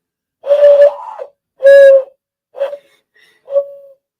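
A person imitates an owl call with several short, breathy hooting whistles, close and fairly loud, separated by brief pauses.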